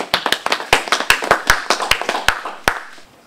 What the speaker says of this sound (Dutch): Een applaus voor Stefano Stoppel.